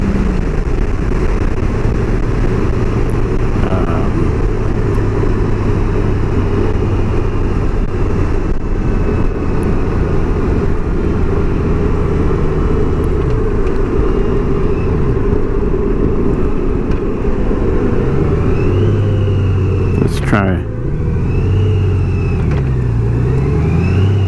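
A car pulls hard at full throttle in fourth gear, its engine drone climbing steadily and loud throughout, with road and wind roar, a brief spike near the end, then pitch dips and rises as the revs fall and recover.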